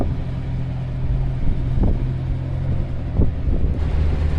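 An off-road vehicle crawling along a rocky trail in Moab, Utah, its low engine rumble steady and close throughout, with a few brief thumps and bumps as it moves over the rock.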